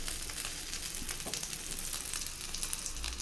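Egg frying in a pan over a low flame, a gentle, steady crackling sizzle close by with no voices.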